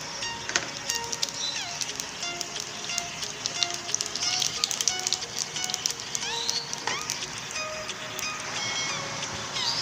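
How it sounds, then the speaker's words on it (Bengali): Nigella seeds hit smoking mustard oil in a pan, giving a dense, steady crackling sizzle with sharp pops scattered throughout, close and continuous for Bengali jhinge aloo posto. "এবার আমি কালো জিরে ফোড়ন দেবো।"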